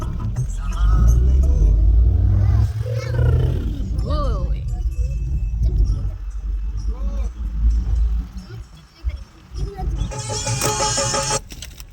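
Family car driving along with everyone inside, a steady low road and engine rumble under frequent animated chatter from children and adults, with a brief burst of rattling noise near the end.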